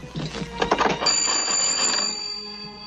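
An old telephone bell rings in a 1937 western serial, a continuous bright metallic jangle that rings steadily over a noisy film soundtrack.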